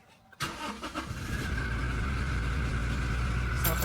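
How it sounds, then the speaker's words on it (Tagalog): A car engine cranks and catches, then settles into a steady running idle close by in a cramped spot, with no talk over it. "Paanda rin ko muna itong kotse ko."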